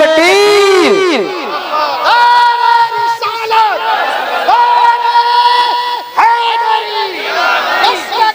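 A large crowd at a religious speech gathering roars back a chanted takbir slogan in loud, sustained waves of massed voices, rising and falling over several seconds.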